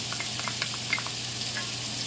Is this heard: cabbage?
yes